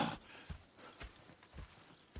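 Faint, steady clip-clop of horse hooves at a walking pace in Red Dead Redemption 2, several soft thuds each second under a quiet noisy background.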